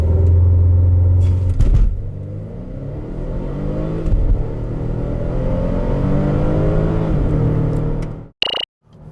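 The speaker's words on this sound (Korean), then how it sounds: "볼보 XC90 T6가 과연 얼마만큼의 가속 성능을 보여줄 수 있을지 한번 볼까요?" A 2020 Volvo XC90 T6 SUV with a 2-litre engine accelerating hard at full throttle, loud droning engine rising through the revs with a brief gearshift dip, then cutting off abruptly at the end.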